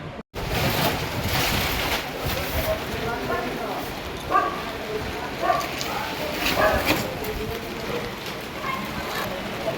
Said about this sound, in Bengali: কি হাওয়া ছাড়ছে আর ঝোড়ো ঝোড়ো বৃষ্টি আসছে।